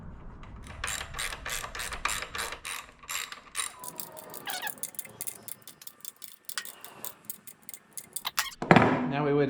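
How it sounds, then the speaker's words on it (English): A hand ratchet threads steel bolts into an aluminum oil pan on a Corvair Greenbrier van, giving bursts of quick clicking strokes with pauses between them and a clatter near the end. "Particularly threading steel bolts into soft aluminum."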